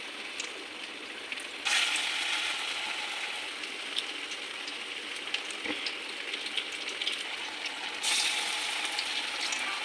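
Teasel gourd slices dipped in gram flour batter fry in hot oil with a dense, rain-like sizzle. Two louder surges come as more pieces drop in, with faint clinks between them.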